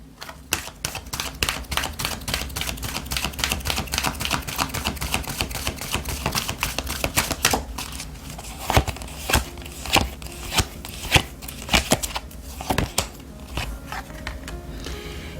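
Tarot and oracle cards shuffled and handled at close range, a dense run of rapid riffling clicks for about eight seconds, then slower, separate slaps and taps as cards are set down one at a time over a soft music bed.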